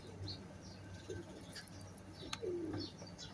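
Omani high-flying pigeons coo softly at a distance, with a couple of low, drawn-out coos and faint chirps over a quiet background hum, and no voices.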